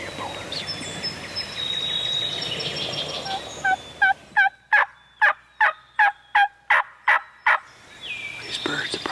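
Wild turkeys in Wisconsin woods during a hunt gobble in a rapid series of about ten loud, close bursts, each separated by short pauses, with faint birdsong before and after and no talking.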